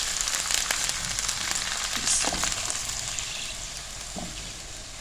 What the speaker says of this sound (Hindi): और इसको थोड़ा सा फ्राई कर लेंगे।